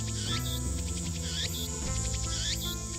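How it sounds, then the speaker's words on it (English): Cicadas in a few trees beside a tiny shrine among city buildings in the game Steins;Gate, a loud steady buzzing drone with repeated rising chirps throughout. "I can hear the chirping of cicadas from the few trees growing here"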